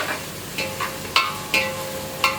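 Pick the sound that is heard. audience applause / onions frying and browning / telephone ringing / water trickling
onions frying and browning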